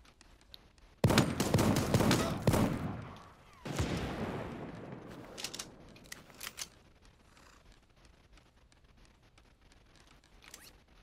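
Rifle gunfire in the cartoon battle royale Super Animal Royale: a loud, dense burst of rapid shots, then a second decaying volley, followed by scattered fainter clicks and pops.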